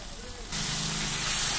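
Ginger garlic paste dropped into a hot wok, bursting into a loud, steady hissing sizzle after a short quiet start and holding strong to the end.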